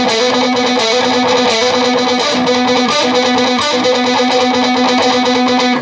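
Distorted electric guitar playing a palm-muted alternate-picked riff, a fast chugging repeated note with brief accents, loud and close, ending abruptly, no talking.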